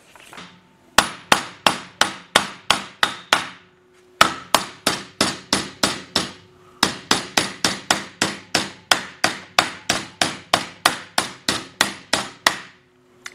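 A steel body panel for an early tool-slot Willys CJ2A is hammered and shaped, with rapid, evenly spaced metallic blows in three long runs and brief pauses between them, loud and close.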